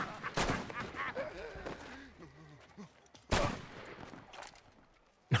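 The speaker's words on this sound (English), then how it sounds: "did he shoot him in the dick?" Gunshots in the Red Dead Redemption video game, two sharp loud cracks a few seconds apart with a third starting at the end, between stretches of talking.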